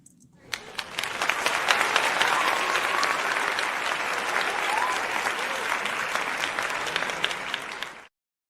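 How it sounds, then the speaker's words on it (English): Sustained applause from an audience, dense clapping that swells in after a brief pause and holds steady at moderate loudness for several seconds before stopping abruptly. "Let me go ahead and just go ahead and clap for that."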